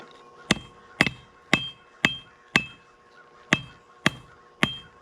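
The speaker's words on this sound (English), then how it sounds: "Now we're just going to start flattening it out to make it more of a rectangular shape than a square shape." Hammer blows flattening hot steel for a kiridashi knife: eight sharp, ringing metallic strikes at a steady, roughly half-second rhythm, close and loud with a brief ring after each hit and no talk.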